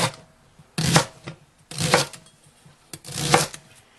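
Knife chopping leeks on a board, three sharp cuts spaced about a second apart, each with a brief crunchy tail, fairly close and alone.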